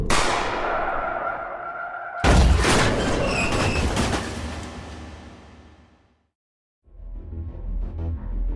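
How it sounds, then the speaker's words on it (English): A single sharp, loud gunshot inside a moving car, a boom with a ringing tail that fades into near silence, followed by a low rumbling that returns. "Carlos shot Mitra."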